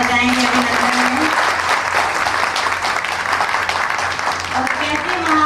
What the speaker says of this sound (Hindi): एक बार हम फिर से जोरदार तालियां बजाएंगे अभिनंदन में।